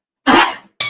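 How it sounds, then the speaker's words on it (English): A cat gives one short, sharp sneeze close by, then a second brief burst begins right after. "My cat was having a little sneeze attack."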